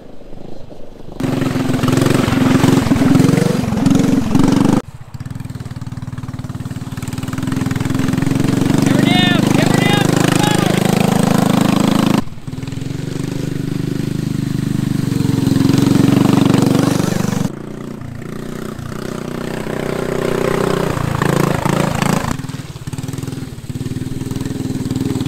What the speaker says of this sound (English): he put a little Honda motor in it